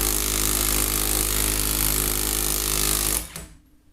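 A RUYIKA 21V 460Nm cordless impact wrench hammers loudly and continuously at close range for about three seconds, then cuts off abruptly and winds down to quiet.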